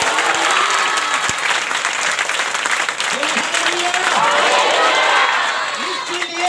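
A congregation at a Christian prayer meeting claps loudly together, a dense sustained burst of applause with scattered cheers and voices mixed in, close and lively from start to finish.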